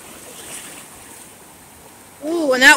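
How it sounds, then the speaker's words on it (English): Ocean surf rolls onto a quiet Galveston beach as a soft, steady wash of water, faint and continuous, before a brief louder warbling tone cuts in near the end. "Just listen to the sounds of that water."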